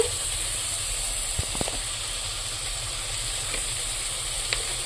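Oil heats in a wok before eggplant goes in to fry, giving a constant broadband hiss and sizzle with a few faint crackles and pops, steady and close with no talking.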